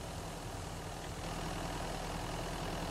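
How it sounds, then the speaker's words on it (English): A vehicle engine idles steadily in Mist Survival, a low continuous rumble that stays even and fairly close for the whole stretch, with no voices over it. "I wouldn't remember to turn my engine off."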